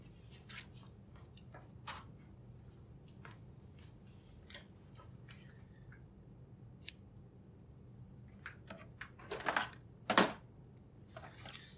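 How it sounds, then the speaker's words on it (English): Scissors cut electrical tape during a split keyboard build: faint scattered snips and clicks, then two louder, sharper cuts close together near the end. "So I'm going to cut some electrical tape to cover up that area"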